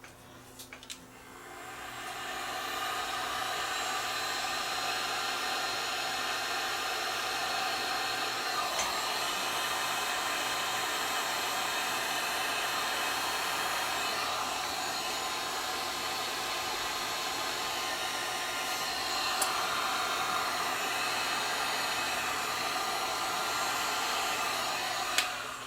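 A heat gun blows hot air onto shrink tubing over soldered wires of a dancing snowman Christmas light, a steady close roaring hiss that starts after a few soft handling clicks and runs unbroken.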